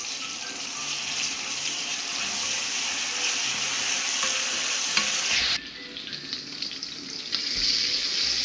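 Onion, garlic and ground spices with mustard paste fry steadily in a pan, a dense continuous sizzle with stirring scrapes; the sizzle dips briefly partway through, then resumes at full strength, with no voices.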